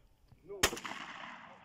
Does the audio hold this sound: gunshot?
yes